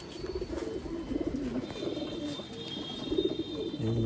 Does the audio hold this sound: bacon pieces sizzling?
no